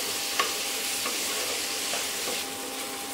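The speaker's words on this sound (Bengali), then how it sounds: "সবজিগুলো নাড়াচাড়া করে ভেজে নিয়েছি" Mixed vegetables with peas being stir-fried in a pan, a continuous sizzle with occasional scraping stirs, close and fairly quiet, no talking.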